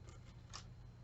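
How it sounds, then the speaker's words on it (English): Scissors snipping along the edge of a folded paper card, giving a few quiet, short crisp cuts over low steady background hum, close to the listener. "If I can get my scissors to cut a little bit."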